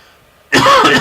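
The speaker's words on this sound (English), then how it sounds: "I'm going to mute myself a minute while I'm coughing." A single sudden throat-clearing cough bursts out close and loud after a moment of near silence, with no talk.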